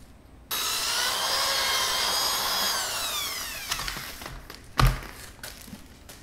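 Headlight lens being wet sanded to a light haze, a steady loud scrubbing rasp lasting a few seconds that fades out, followed by a couple of sharp knocks and light handling noises.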